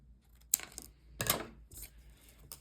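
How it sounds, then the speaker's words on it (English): Scissors snip through embroidery floss strings on a knotted friendship bracelet, making a few quiet, close, crisp clicks and cuts separated by short pauses. "And then I'm just going to cut it off at the end"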